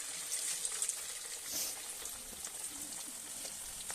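Raw minced-meat kebabs frying slowly over a low flame, a steady soft sizzle and crackle with faint pops throughout, no voices.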